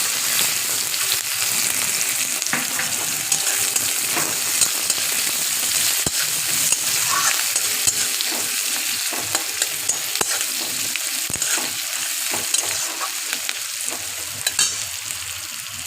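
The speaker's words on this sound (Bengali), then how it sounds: "পেঁয়াজটা ভাজা হয়ে গেছে" Onion frying in oil for mustard katla fish, a steady close crackling sizzle with occasional stirring clicks running throughout, no talk.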